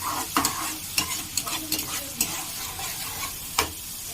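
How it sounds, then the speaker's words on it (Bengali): Paneer masala being stirred in a hot pan right after salt goes in, with a steady sizzle under repeated scraping and clinking strokes of the spoon against the pan, close and alone. "নুনটা দিয়ে একটু নেড়ে চেড়ে নেব।"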